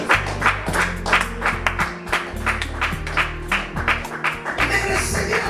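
A church congregation claps in praise to the Lord, sharp rhythmic handclaps falling in a steady beat over music with a droning bass line, fairly loud and close throughout.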